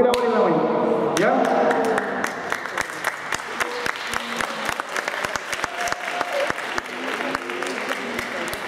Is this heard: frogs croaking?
no